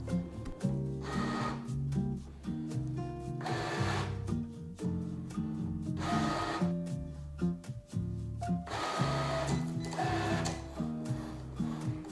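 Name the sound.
Cricut Explore cutting machine cutting out a square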